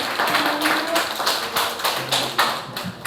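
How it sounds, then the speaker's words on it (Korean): A small group at a Catholic colloquium claps in brisk, uneven bursts for a few seconds, the applause close and moderately loud with no talking. "고생해주신 우리 윤정현 사무총장님께 박수 부탁드립니다"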